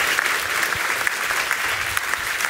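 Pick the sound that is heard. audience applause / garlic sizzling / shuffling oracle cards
audience applause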